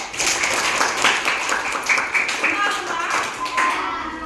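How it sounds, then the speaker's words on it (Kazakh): Children in a fourth-grade music class clap together in a quick, uneven burst of close handclaps that lasts several seconds, with voices heard alongside. "керемет балдар, шапалақ ұрамыз"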